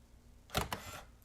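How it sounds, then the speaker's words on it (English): A Canon EOS Rebel G film SLR's autofocus whirs briefly, followed by a crisp shutter click, quiet and close. "it just focused and took the picture"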